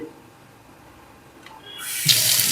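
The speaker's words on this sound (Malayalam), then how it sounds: "ഇതുപോലെ വെള്ളം തുറന്നു വിടുക" A tap is turned on near the end, and running water gushes loudly into a sink after a quiet start.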